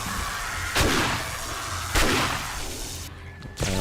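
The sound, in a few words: gunshots shooting zombies in video game 7 Days To Die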